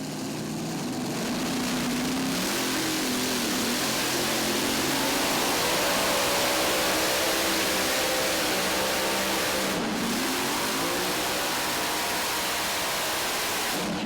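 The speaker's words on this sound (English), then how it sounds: "This has 5 supercharged Meyer Brother racing engines on it" A pulling tractor fitted with five supercharged Meyer Brother racing engines roars at full power in a continuous, loud, dense howl, with a brief dip in pitch near the end before it climbs again.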